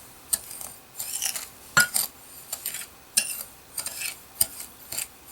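Green tea leaves from tea bags are stirred into a facial scrub in a small bowl, producing a run of light clinks and scrapes of a utensil against the dish at an irregular rhythm, close and fairly quiet.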